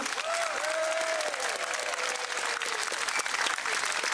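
An audience at an outdoor fair in Kelso applauds the Llanelli Highland Dance School, with steady, dense clapping that holds for several seconds and a faint tonal sweep drifting above it.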